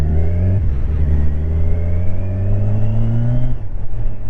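A Kawasaki Ninja 1000 SX motorcycle engine revs loudly and steadily nearby, its pitch climbing over several seconds before dropping off, with no talking.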